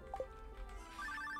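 Telephone ringing in the farming video game Stardew Valley, a short electronic ring pattern of repeated beeping tones that comes in partway through, fairly quiet over soft game background sound.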